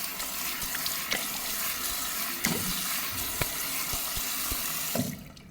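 Tap water runs steadily from a faucet to wet a shaving brush at a sink, a continuous close splashing hiss with a few small knocks, stopping abruptly near the end.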